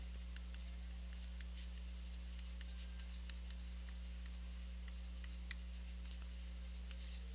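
A pen scratches out a math formula on paper in short scribbled strokes, faint and close over a constant low electrical hum, with no talk.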